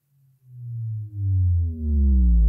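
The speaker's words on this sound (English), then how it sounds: "And I've also imported just the sine wave." A low sine-like tone swells in and glides downward in pitch, growing louder in steps with faint overtones emerging.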